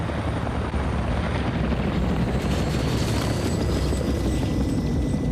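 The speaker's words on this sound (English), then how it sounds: "Did it damage the chopper itself that quickly?" A helicopter flying near the burning Chernobyl reactor, its loud continuous rotor roar and engine whine filling the whole stretch with no talk.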